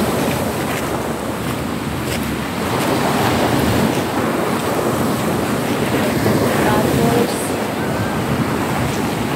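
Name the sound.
sea waves washing on the shore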